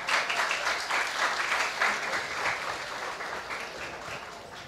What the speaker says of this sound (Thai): ขอบคุณนะครับปรบมือให้หน่อยนะ